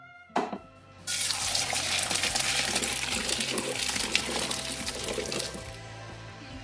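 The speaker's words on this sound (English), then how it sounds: "When your potatoes are soft, turn them off and drain them." Water from a pot of boiled potatoes pours into a sink in a steady gushing splash for several seconds, preceded by a short metallic clank of the pot, close and fairly loud with no speech.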